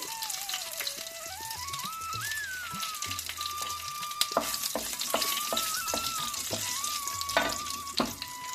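Curry leaves and a dried red chili crackle in hot oil while aloo fry is being made. A steady sizzle runs throughout with sharp pops and spatters, and a high tonal whine sits above it.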